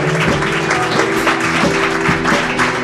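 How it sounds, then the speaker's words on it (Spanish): A church congregation applauds together in steady, dense clapping, with organ or keyboard chords sustained underneath throughout. "Yo quiero que aplaudan al Señor, porque algo maravilloso Dios está haciendo."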